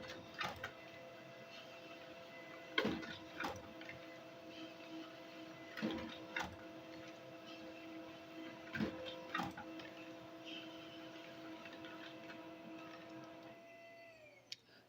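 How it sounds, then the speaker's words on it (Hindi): A printer runs through the pages of a booklet with a steady mechanical whir, punctuated by regular thumps and clunks as each sheet feeds through, close and without talk. "यहाँ पर मेरा प्रिंटर स्टार्ट हो चुका है और जो सभी पेजेज हैं वो अब प्रिंट होकर के आने वाले हैं"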